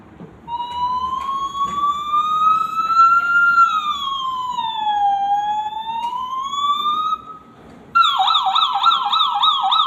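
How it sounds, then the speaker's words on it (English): An ambulance siren sounds close and loud, first in a slow rising and falling wail, then switching to a rapid, pulsing yelp pattern, clear and alone without talk. "Then ambulance."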